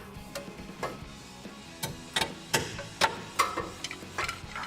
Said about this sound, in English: I'm going to use a hammer to tap the bolt head through on the other side